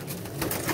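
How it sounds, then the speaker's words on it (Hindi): Pigeons kept in a loft coo softly with a low, throaty burble, a short murmuring phrase close by with faint rustling around it. "बाबा जी ने कबूतर शबूतर भी इकट्ठे किए हुए हैं।"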